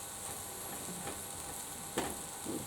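Rice fries in a pan with a quiet, continuous sizzle, broken by a few soft scraping stirs and one sharper clink near the end; no one speaks.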